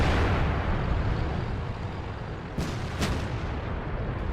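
A sustained low roar of artillery fire in the tank battle game World of Tanks, with two sharp distant cracks cutting through the rumble near the end and no talk.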